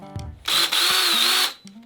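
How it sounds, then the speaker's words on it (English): A Dewalt power tool lops plastic tabs off a 20 volt battery in one close, loud, steady whine lasting about a second, with small clicks before and after. "what I'm going to do is just set it down and lop them both off"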